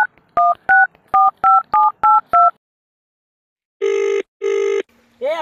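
A phone is dialed with a quick run of seven crisp keypad tones, then a short silence, followed by two long ringback buzzes and the start of a third sound, close and loud.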